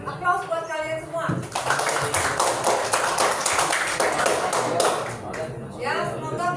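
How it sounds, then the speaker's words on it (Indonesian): Students in a classroom break into applause, a dense burst of clapping that lasts several seconds, with a teacher's voice before and after it. "Aplaus buat kalian semua"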